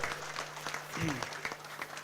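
Applause greets an arriving guest, the academy president of Italian pizza makers, at a coffee and latte art show, heard as a steady wash of clapping with a voice over it.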